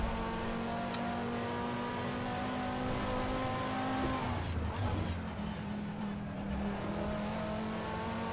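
Audi TT VLN race car in a racing sim at Imola, a steady engine drone with shifting revs and faint tyre noise running throughout, fairly loud and continuous with no talk.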